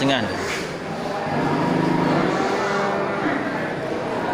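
Bali cattle moo in long, drawn-out calls at a busy livestock market in Bireuen, one loud low call standing out early before more lowing carries on under steady crowd chatter and talk.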